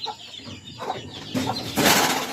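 Hatchery chickens being checked on a farm cluck and flutter close by in a short, busy burst of irregular calls and wing sounds, with no talk.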